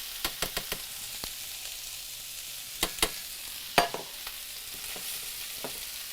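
Shrimp and vegetables cook in a pan, with a steady faint sizzle under scattered sharp clicks and scrapes from stirring. The vegetables drop in with a louder clatter near the end.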